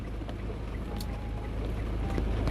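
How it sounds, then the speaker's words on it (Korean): Heavy rain suddenly pouring down outdoors in Southeast Asia, a dense, steady broadband roar with a low rumble running through it, loud and close, with no voices. "갑자기 비가 쏟아지니까"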